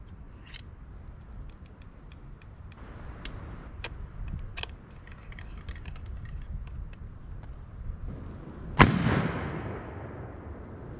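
A muzzleloader rifle loaded with 777 pellets, 245-grain Power Belt copper hollow point bullets and 209 shotgun primers fires a single loud, sharp outdoor shot at 100 yards, followed by a decaying echo, with faint rustling and clicks beforehand.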